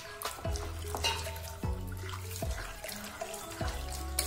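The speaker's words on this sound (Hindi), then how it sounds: "इसी तरह से हमको रगड़ के 2-3 बार इसको धोना है।" Soybeans rubbed and washed by hand in a bowl of water, giving repeated wet sloshing and swishing bursts at a steady pace, close and fairly loud with no talking.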